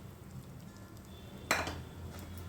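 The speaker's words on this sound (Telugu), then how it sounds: "బాగా వేయించుకుంటూనే ఉండాలి" A spoon stirs wheat semolina frying in ghee in a pan, a soft continuous sizzle with one sharp metallic scrape midway, close up and without speech.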